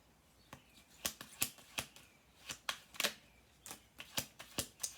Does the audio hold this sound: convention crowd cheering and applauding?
no